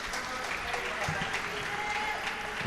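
Applause from a home GB crowd at the European Para Table Tennis Championships, a steady wash of clapping filling the hall with a commentator talking over it throughout.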